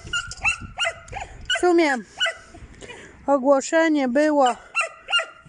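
Puppies and their mother dog give high, wavering whimpers and short yips in several bursts, close by, with people talking over and between them.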